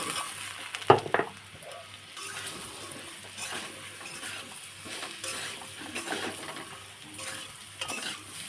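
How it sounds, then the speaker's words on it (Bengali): Ridge gourd and potato fry in a pan with salt, turmeric and chili powder, a quiet steady sizzle with an early clink and occasional soft stirring scrapes, no talk. "দিয়ে একটু ভালো করে ভেজে নেব আলুটা আর ঝিঙেটা ভালোভাবে ভেজে নিয়েছি"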